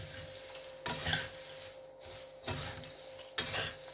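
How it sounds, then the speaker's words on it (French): Dried fruits and nuts are stirred in ghee for Bombay mix, giving three or four short scraping bursts of a spoon against the pan over a faint background hum. "je mélange tout ça."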